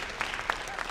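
Audience applause at an awards ceremony speech, a steady moderate patter of clapping lasting the whole second with a few sharper claps standing out.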